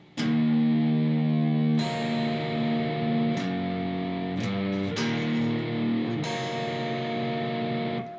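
An electric guitar plays a riff slowly, with a distorted tone and several struck chords and single notes spaced out over time, each ringing on before the next, close and alone.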